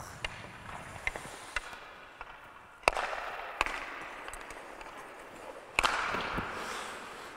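Hockey pucks struck with sticks during a shooting drill, several sharp cracking slaps scattered over a faint, noisy rink background.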